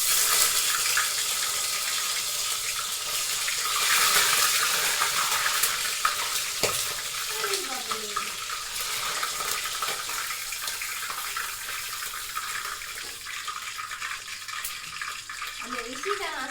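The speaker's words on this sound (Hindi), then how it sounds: "मेरा तेल गर्म हो चुका है और मैं इसको डाल देती हूँ इसके अंदर" Food fries in hot oil, giving a steady close sizzling hiss that runs throughout, with a few brief clinks and a voice speaking faintly over it now and then.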